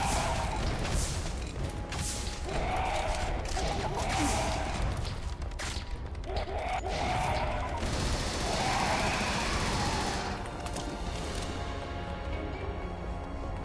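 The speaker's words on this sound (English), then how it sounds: "Tell you what I am gonna get fucked with. It's getting shot with missiles." Dense, continuous automatic gunfire mixed with booming explosions from a video game shootout where missiles are being fired, loud and unbroken for the whole stretch with bursts swelling and fading.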